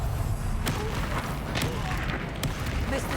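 A Bombarda spell blast in the video game Hogwarts Legacy, heard as a few booming impacts over a dense, continuous layer of game noise and rumble, moderately loud throughout.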